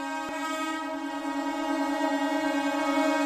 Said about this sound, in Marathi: मुंबई लोकल मोटरमननी हॉर्न वाजवत नव्या वर्षाला सुरुवात केलेली आहे